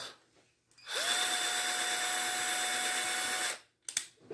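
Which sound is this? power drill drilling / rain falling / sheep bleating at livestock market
power drill drilling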